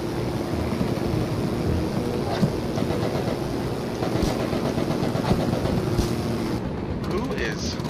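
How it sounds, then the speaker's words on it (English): A rough, sputtering WWI aircraft engine in the flight game Wings Over Flanders Fields drones on unevenly as it self-destructs, with rattling, ratchety mechanical noise and occasional pops. "engine is self-destructing. Doesn't sound good."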